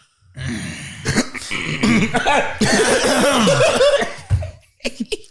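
Several rough throat-clearing coughs close to the mic, bunched together with brief gaps, followed by a couple of shorter hacks near the end.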